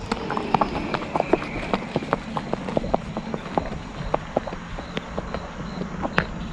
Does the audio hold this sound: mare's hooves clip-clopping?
yes